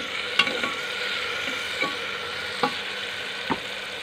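In a pan, lentils fry with greens in a steady, moderate sizzle, and a few soft scrapes of a stirring utensil land at irregular moments.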